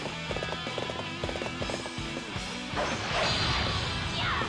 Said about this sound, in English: Yeah, you get like a normal horse.